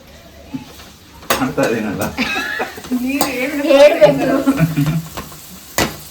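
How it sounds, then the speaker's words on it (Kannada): Onions frying in oil in a home kitchen, with sizzling and a utensil stirring and scraping against the pan, plus a few sharp clinks, fairly close and loud. "ಎಣ್ಣೆ ಹಾಕೊಳ್ಳಿ ಆಮೇಲೆ ಈರುಳ್ಳಿ ಹಾಕೊಂಡು ಫ್ರೈ ಮಾಡ್ಕೊಳ್ಳಿ"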